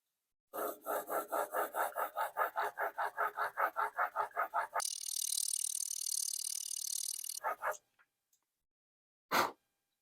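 A Rage broadhead blade is drawn repeatedly across a Stay Sharp sharpening guide, giving about seventeen quick, even rasping strokes, then a sustained steady scrape, a few faint clicks and one final short rub, all close and isolated.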